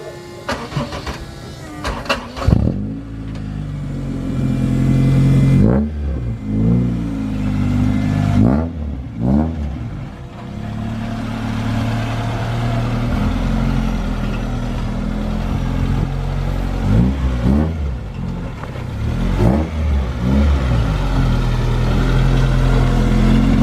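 A straight-piped all-wheel-drive car idles and is blipped repeatedly, several sharp revs rising above a deep rumbling idle, loud and close, with no talking.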